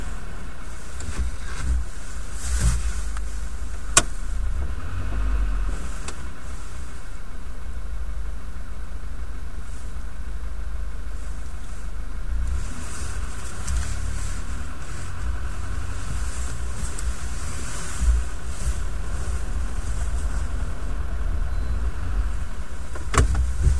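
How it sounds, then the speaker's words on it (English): A small car driving past on a street during a shopping outing, a low rumbling engine and tire noise that swells and fades amid steady traffic hum, with a sharp click or knock early on. "See that funny little car go past then?"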